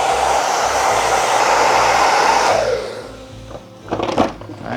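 A hair blow dryer roars loudly and close, blowing cut hair off after a mid-bald fade haircut, then winds down into quieter rustling and handling noises.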